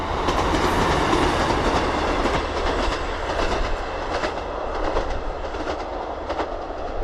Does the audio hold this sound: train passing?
yes